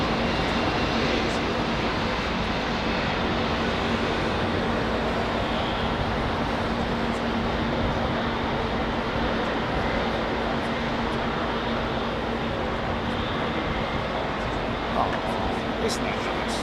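An American Airlines Boeing 777 widebody jet heads westbound at Heathrow. Its engines make a steady, broad roar that runs the whole stretch without a break, with a low drone underneath. Faint voices can be heard at times.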